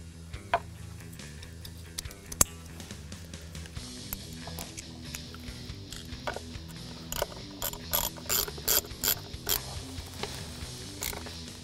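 A ratchet clicks in quick bursts while an ignition coil is reinstalled on a 5.0L Mustang GT V8 engine, with crisp close-up ticking runs and scattered metallic taps and no talk.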